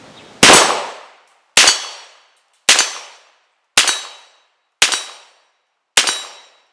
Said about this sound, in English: I'll throw some rounds downrange with it real fast.